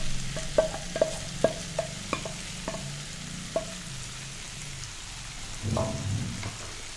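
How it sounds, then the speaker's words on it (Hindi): Soya chunks (nutri) fry in a pan for soybean biryani while a spoon stirs them, giving a run of sharp, evenly spaced scrapes and clicks over a low sizzle, then a louder burst of stirring near the end. "अब हम इसमें जो हमने न्यूट्री रखी हुई थी वो डालेंगे। इसमें 2-4 मिनट तक हम इसको फ्राई करेंगे।"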